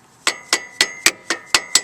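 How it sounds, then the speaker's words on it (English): Seven sharp, evenly spaced taps of a dead blow hammer striking a metal retaining ring on a 2000 Ford F-350 front hub, crisp and close with a brief ring after each hit. "You don't need to hammer it as hard as you can, just a little tap."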